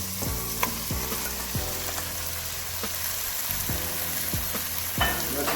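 Chicken pieces frying and being stirred in a pan for a Tamil chicken dish, with a steady close sizzle and repeated scraping stirs about once a second.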